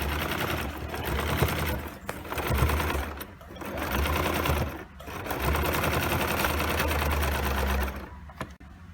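A sewing machine runs in steady bursts as it stitches overlapping scraps of cloth together, with a loud, continuous mechanical whir that pauses briefly between runs.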